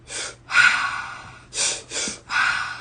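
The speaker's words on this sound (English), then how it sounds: "So what I teach is open mouth breathing. It's belly, chest, exhale, belly, chest, exhale." Rhythmic open-mouth breathing in a breathwork exercise: a short breath, two stacked inhales into belly then chest, and a release out, four airy rushes in under three seconds, close and fairly loud with no talking.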